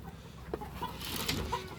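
Soft chickens clucking nearby, a few short, scattered calls over a quiet background at a Faomi chicken farm.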